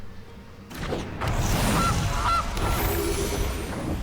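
Gilded Goose card in the MTG Arena digital card game giving a couple of cartoonish honks over a whooshing game effect, close and clear with no talk.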